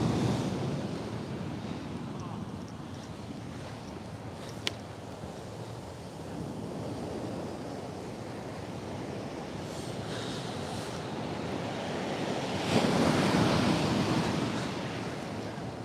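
Sea waves wash onto a shore in Japan in a continuous broadband roar that swells louder near the end, mixed with wind buffeting the microphone.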